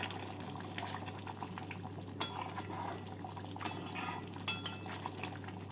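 Egg laziz curry is stirred in a pot, a faint spoon scraping and clinking against the metal with soft bubbling underneath, quiet and continuous with occasional sharper taps.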